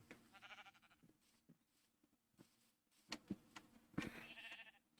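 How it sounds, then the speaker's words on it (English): A Minecraft mountain sheep bleats several times, short nasal calls mixed with light footsteps and faint game noises. "Let's go follow this mountain sheep."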